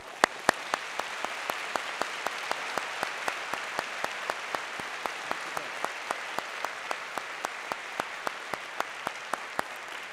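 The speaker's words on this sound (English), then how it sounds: "join me in celebrating Dr. Kadip's incredible presidency with our applause." Applause at a college and seminary commencement ceremony sounds as sharp, evenly spaced claps, about three or four a second, steady and moderately loud in a large hall, with no talk.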